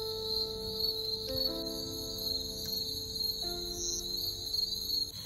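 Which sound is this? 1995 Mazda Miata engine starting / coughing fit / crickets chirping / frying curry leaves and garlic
crickets chirping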